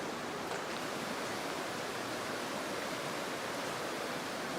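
A small creek joins a spring beside a path, its water rushing and babbling as a steady, even wash of noise with no talk over it.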